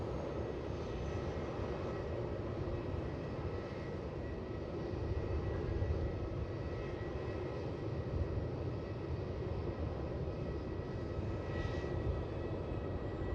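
A plane lands on runway 16 at Melbourne Airport, a distant, steady, broad roar of jet engines that holds at an even level for the whole stretch without a clear peak.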